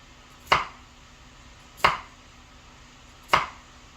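A knife cuts small potatoes in half on a board: three sharp, isolated chops spaced evenly about a second and a half apart, close and clear with no talking.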